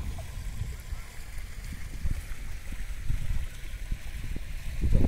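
Fast-flowing river water rushes past nearby in a steady low churning roar, with gurgles and occasional wind buffeting in the background.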